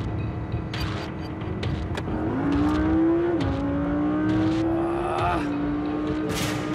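Audi R8 V10 plus accelerating at full throttle on a German motorway, the engine note rising steadily through gears with brief dips at shifts, loud and continuous from inside the car.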